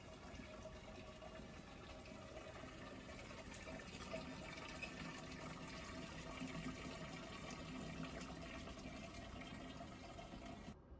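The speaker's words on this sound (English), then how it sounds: "We're just going to open the valve of the spigot to drain into the keg." Steady rushing and trickling of cold brew coffee draining from a spigot valve into a keg, continuous and fairly soft throughout, with no talking.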